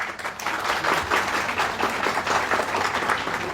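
Audience applause at a discussion held in India's first law college, steady dense clapping from a large crowd sustained throughout without a break, fairly loud and close.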